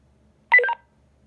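Anytone DMR handheld radio keyed up on a simplex channel through a hotspot, giving a short, clear burst of stacked electronic tones lasting about a quarter second, alone in otherwise quiet surroundings.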